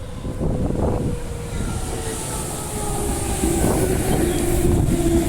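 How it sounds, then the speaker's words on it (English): A Midland Line passenger train to Perth passes nearby with a steady rumbling roar and rushing wind, a droning motor tone rising in the second half. "Here comes the Midland train, set 36 in the front."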